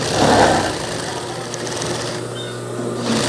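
Sewing machine stitching a Saudi thobe, a steady close mechanical whirr with a low hum running through most of the clip, louder at the start and near the end.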